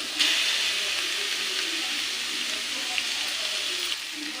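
Keema fries with chopped tomatoes in a pan, giving a steady, loud, dense sizzle up close with a few small pops and no pauses.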